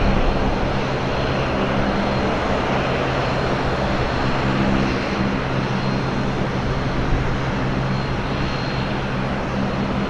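A Boeing 777 airliner at Portland Airport gives a loud, sustained jet engine roar with a steady low drone that stays even and close for the whole stretch.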